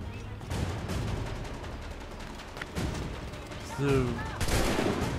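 Scattered gunfire in the video game Assassin's Creed III, a few muffled shots and bursts set back in a busy game soundscape while someone talks over it.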